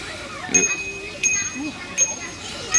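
A bicycle bell rings three times at even intervals, each a bright, short ding, heard fairly close over faint background noise.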